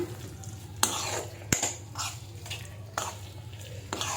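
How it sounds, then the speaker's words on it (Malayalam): Chicken liver being stirred in a pan for a liver fry, with repeated scraping spoon strokes against metal over a low background hum and faint sizzling. "ചിക്കൻ്റെ ലിവർ ചേർത്ത് കൊടുത്തു നല്ലപോലെ ഇളക്കി യോജിപ്പിക്കാം"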